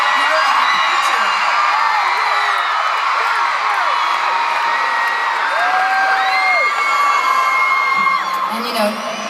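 A packed arena crowd at a concert in Sydney whoops, yells and cheers without a break, with shrill rising screams rising out of a loud, steady roar.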